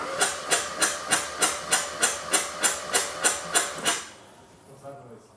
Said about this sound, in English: That's the compression coming out the other spark plug.